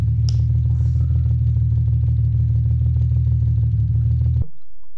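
Loud, steady engine hum from a car in a drift simulator video game, a sustained idle-like drone with faint clatter that runs unbroken for about four seconds and then cuts off abruptly.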